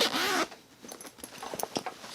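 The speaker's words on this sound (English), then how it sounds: "Got one zipper here." A zipper on a motorcycle sissy bar backpack is pulled open in one quick close-up stroke, followed by soft rustling and handling of fabric.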